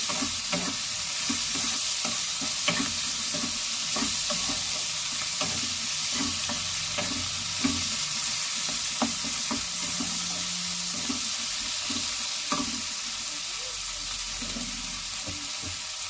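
Prawn biryani masala with tomato fries in a pan, a loud, steady sizzle close up with the scrape and clatter of stirring throughout, no talking.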